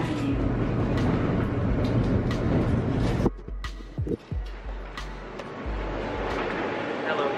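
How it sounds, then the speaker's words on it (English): A Q subway train rolls toward Coney Island, a loud steady rumble with rattling from inside the car that suddenly drops away for a moment, with clunks as it pauses, then returns to a continuous roar; no clear talk. "We are here in the train, Q train, going to Coney Island."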